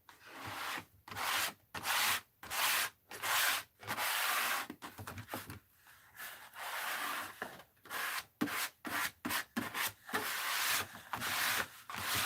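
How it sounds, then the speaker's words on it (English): Paint is scraped across a mixed-media art journal page in a quick run of short, rasping strokes, close and dry, with brief pauses between passes. "And we're going to scrape."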